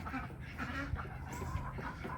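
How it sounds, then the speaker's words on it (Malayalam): Several chickens cluck and murmur close by in a steady, busy farmyard din, with a couple of brief low thumps. "കോഴികൾ നിൽക്കുന്നുണ്ടോ പത്ത് നാൽപ്പത് കോഴിയുണ്ട്"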